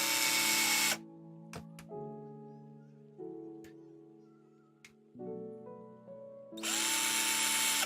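A cordless power drill drives small screws into the underside of a Tamiya Super Avante model kit, with a loud whir at the start and end and several short motor pulses with clicks in between.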